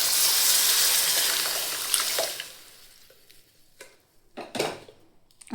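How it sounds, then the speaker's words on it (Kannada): Boiled dal poured into a hot pan of spiced methi dal, a loud watery rush that fades after about two seconds, followed by a few scattered clinks and splashes. "ಈಗ ಇದಕ್ಕೆ ಕುದಿಸಿಟ್ಕೊಂಡಿದ್ದು ಬ್ಯಾಳೆ ಹಾಕತ್ತೇನೆ ರೀ"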